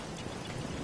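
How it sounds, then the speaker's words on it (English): Steady rain falls in the Fallout 4 video game, a dense continuous hiss of drops on surfaces with no pauses, even and enveloping. "Hope this rain lets up soon."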